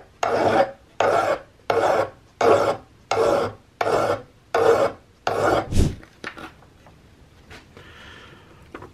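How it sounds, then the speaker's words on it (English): A file working across a brass butt plate, wood and epoxy on a CVA Hawken rifle stock, eight steady rhythmic rasping strokes close up, then quieter scraping and shuffling. "I've filed off most of that gate"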